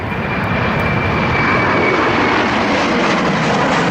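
A Spirit Airlines plane in flight to Los Angeles, heard as a loud, unbroken engine roar that stays even throughout.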